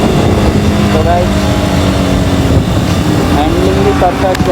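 A freshly serviced motorcycle being ridden, its engine droning steadily up close with slight pitch shifts from throttle changes, wind and road noise mixed in throughout.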